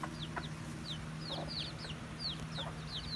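Young chickens, a leghorn cockerel and a buff Orpington pullet around five weeks old, make rapid high chirps and soft clucks close by, repeated in quick bursts over a steady low hum.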